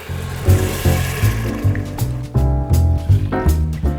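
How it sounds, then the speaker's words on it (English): Red Bordeaux wine poured from a bottle into an Instant Pot, a close glugging and splashing stream that comes in rhythmic gulps and fills the pot over several seconds. "we're gonna go ahead and now add our red wine"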